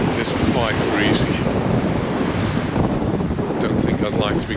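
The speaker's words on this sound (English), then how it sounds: "It is quite breezy." Steady gusty wind buffets the microphone in a constant low rumble, with faint surf beneath and brief voice fragments at moments.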